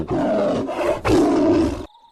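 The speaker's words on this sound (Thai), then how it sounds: "เสียงคำรามที่มันดังขึ้นสนั่น" A tiger roars twice in a narrated Thai jungle folk tale, a loud, deep growling roar broken by a brief pause and then ending abruptly.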